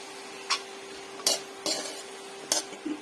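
A banana stem stir-fry is stirred in a pan: four distinct scraping strokes at an uneven pace over a low, steady sizzle, close and moderately loud.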